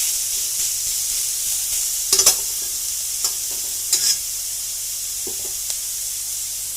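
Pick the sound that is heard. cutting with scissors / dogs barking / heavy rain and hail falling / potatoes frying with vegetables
potatoes frying with vegetables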